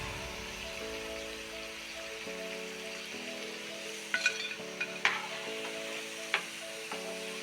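Bread snacks deep-frying in hot oil give a steady, close sizzling hiss with a soft stirring texture, broken near the end by a few sharp pops and crackles.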